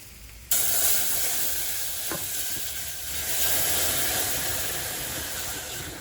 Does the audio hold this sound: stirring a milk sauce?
yes